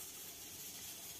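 A faint, steady high-pitched steam hiss from a pressure cooker whistle streams continuously, soft and even with no break.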